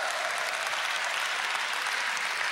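A crowd at a 1992 Korean taekwondo team trials event applauds loudly and continuously after a bout, in a dense, even burst of clapping.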